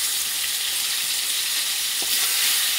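Potato pieces fry in hot oil with tomatoes added, a loud, steady hiss of sizzling that fills the whole stretch with no talking, with a faint clink of stirring near the end.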